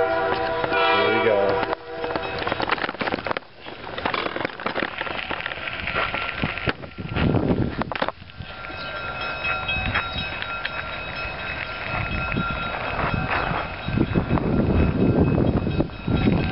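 Cuyahoga Valley Scenic Railroad train passes close by with a loud, sustained engine rumble, a horn blast near the start and a steady rolling roar filling the whole stretch, with brief voices at moments.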